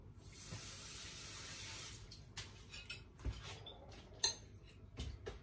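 Water runs steadily from a tap for about two seconds while being added to a pan of lechon belly, then gives way to scattered clinks and knocks of cookware.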